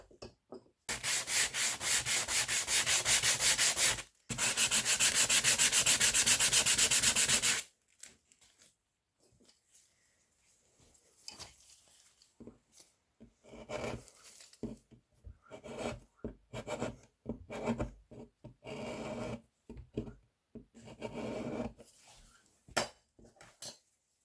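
Sharpened metal blades scrape painted wood furniture, first as two long continuous rasping strokes, then as a run of short, uneven scrapes and scratches, close and moderately loud with no talking.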